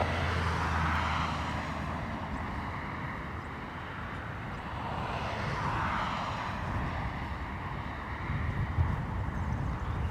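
An Emirates Boeing 777 jet airliner, a moderate steady engine drone with a gentle rising and falling sweep, blended with wind noise on the microphone and no speech.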